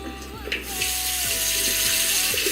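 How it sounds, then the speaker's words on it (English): A bathroom sink tap runs steadily with warm water, a continuous close splashing stream that grows slightly fuller as it goes, with faint clinks and knocks at the basin. "wet the cloth with a little bit of warm water"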